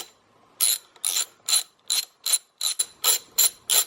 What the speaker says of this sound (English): you're going to need a 10mm to get that bolt off